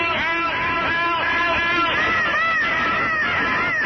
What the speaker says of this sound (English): Voices screamed in every room.